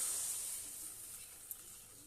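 Water poured onto spices frying in oil for a fish curry produces a soft, steady hiss and sizzle, faint and continuous with a single small pop.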